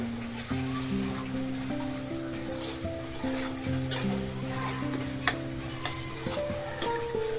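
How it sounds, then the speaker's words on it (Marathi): Masala with coriander powder sautés in oil for masala palak paneer, giving a soft, steady sizzle with occasional stirring scrapes. The cooking sounds sit quietly beneath a continuous melodic music track. "मसाला छानपैकी परतून घेऊया तेल पर्यंत"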